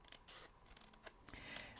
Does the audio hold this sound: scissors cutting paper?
yes